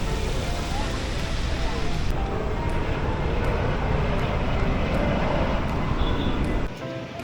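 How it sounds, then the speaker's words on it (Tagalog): Kuwait Airways airliner landing at NAIA Terminal 1 in Manila, heard from a distance as a steady, broad roar of jet noise that holds for several seconds before easing off. "Finally, lumapag na rin ang Kuwait Airways na sinakyan nila mga tita"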